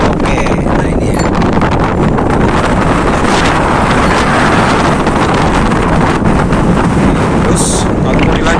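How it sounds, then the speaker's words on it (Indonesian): Strong wind at sea buffets the microphone on a small fishing boat, making a loud, constant roaring rush that runs the whole way through. "Jadi gini kondisinya, terlalu kencang anginnya"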